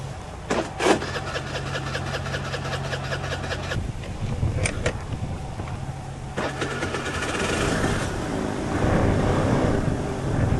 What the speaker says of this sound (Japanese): エンジンかけてみよ